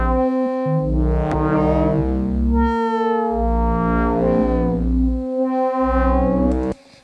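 Layered modular synthesizer tones driven by irregular control voltages swell and slide up and down in irregular arcs, with a sustained buzzy drone underneath, ending abruptly.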